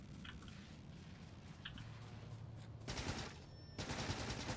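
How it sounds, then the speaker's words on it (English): Gunfire aimed at a tree in the video game Factorio, two dense bursts of rapid automatic shots about a second apart, fairly faint and mid-distance, following a quieter stretch of game ambience with no talking. "I can't see which tree that is, so we're just gonna shoot it."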